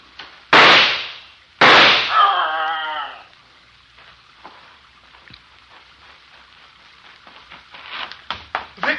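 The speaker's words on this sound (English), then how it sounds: "Did you shoot it?" Two loud, sharp gunshots from an old radio drama, close together, followed by a brief echoing tail and then quiet with faint rustling and scattered small knocks.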